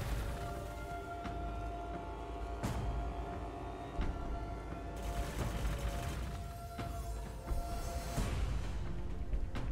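Rapid gunfire and weapon impacts from the Warhammer 40,000 Gladius strategy game, with Aeldari forces in battle, rattling steadily over a dense layer of game effects and music for the whole stretch.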